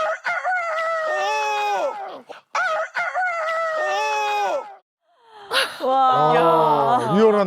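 A person imitates a village rooster crowing, giving two long, loud, strained cock-a-doodle-doo calls, a brief pause, then a third wavering crow, close and alone.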